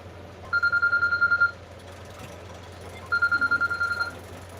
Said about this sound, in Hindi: गजरा को फोन उठा लो